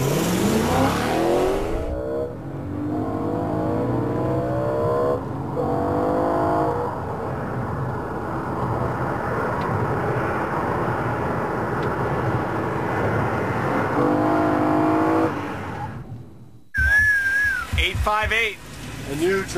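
BMW M3 accelerating hard on a race track, engine note climbing through repeated gear changes for about fifteen seconds, loud and close, then cutting off abruptly before a commentator's voice and whistling-like tones at the end.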